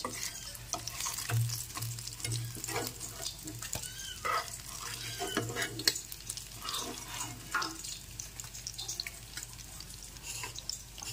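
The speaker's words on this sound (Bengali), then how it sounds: "মাছগুলো ভেজে নিচ্ছি।" Khoira fish frying in hot oil, a close, busy sizzle with spattering crackles and occasional scraping stirs, continuous throughout without speech.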